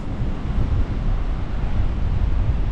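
Strong wind gusting on a seafront promenade near Bournemouth, a continuous loud roar buffeting the microphone with possible surf beneath, no voices.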